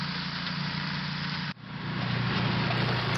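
A heavy-duty Logic flail mower runs continuously nearby, a loud steady engine drone with a brief dip midway before the rumble picks back up, with no talk over it.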